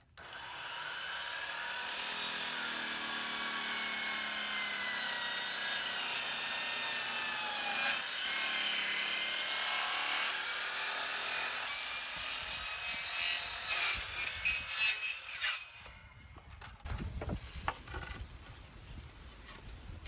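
Hand saw cutting a 45-degree angle through an 8-foot, 10-inch-wide, half-inch primed board: steady continuous back-and-forth rasping strokes, close and loud, tapering into scattered knocks and handling noises near the end.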